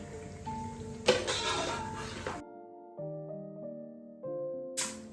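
Water pours from a rinsed plate into frying masala for mutton pulao, a sizzling rushing splash for about two seconds, then quiet with background music tones and another brief splash at the end.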